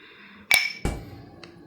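A glass serum bottle clinks as moringa skin booster ingredients go in, two sharp close knocks about a third of a second apart, followed by a fainter tap.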